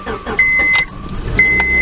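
A car with 187,000 miles and a completely dead battery, unstarted for about a month, cold starts in December: a strained starter whine and cranking, then the engine catches, loud and close.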